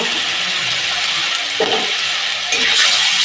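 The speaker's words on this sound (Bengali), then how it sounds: "মশলাটাকে আমার নাড়া চাড়া দিয়ে ভালো করে কষিয়ে নেব" Spice mix for mutton stirred and frying in a pan, a steady near sizzle with scraping spoon strokes through it, alone without talk.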